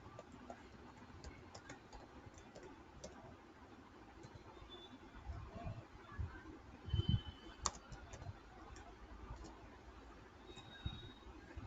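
Someone types on a computer keyboard that has a fault, producing quiet irregular clicks and key taps in bursts, with a louder cluster of clattering strokes around the middle, no speech.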